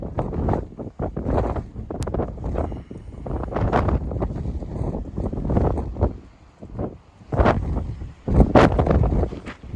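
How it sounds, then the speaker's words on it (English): Strong gusting wind on a mountain along the Pacific Crest Trail buffets the microphone in loud, rumbling bursts that rise and fall without letup. "Man, it's windy up here."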